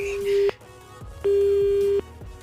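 A telephone busy tone after a hang-up repeats: a short steady beep, a pause, then a longer beep, clear and close with a faint background hum.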